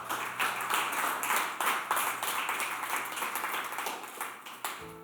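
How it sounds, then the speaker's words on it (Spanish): A church congregation claps in praise, a fairly quiet run of many hands clapping in uneven bursts that fade toward the end. "Dele un aplauso al Señor."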